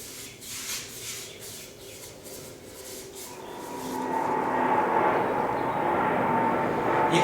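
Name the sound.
airplanes flying overhead near Dallas-Fort Worth airport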